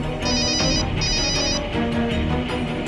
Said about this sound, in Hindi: श्रद्धा तुम फोन क्यों नहीं उठा रही हो?